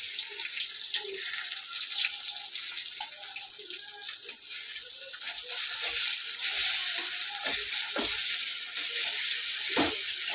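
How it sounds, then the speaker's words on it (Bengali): An egg fries in a pan beside onions, giving a steady close sizzle with occasional soft clicks and scrapes from stirring, and no one talking. "তো দেখো ডিমটা বেশ ভালোভাবে ভাজা হয়ে গেছে"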